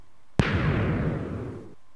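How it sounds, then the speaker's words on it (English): A fireworks cannon firing in Minecraft: one sudden sharp blast followed by a rumbling, crackling decay that lasts over a second before cutting off abruptly, with no talk. "Anyway, this is a fireworks cannon."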